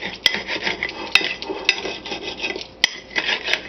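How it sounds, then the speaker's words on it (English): A knife chops ingredients for crawfish étouffée on a cutting board, giving a series of sharp, close knocks spaced irregularly, with softer scraping and rubbing between the strikes and no talking. "I'll show you how I chop it up."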